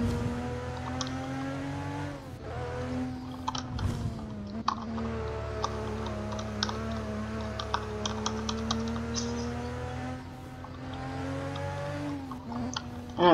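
Light, scattered clicks of computer keyboard keys tapped while steering in a Roblox street racing game, sitting over a steady humming car engine drone with small pitch shifts.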